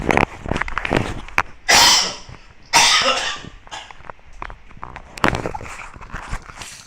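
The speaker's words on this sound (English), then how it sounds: "Having a very bad cough." Several harsh coughs burst out close up, two of them long and loud, between smaller clicks and rustles.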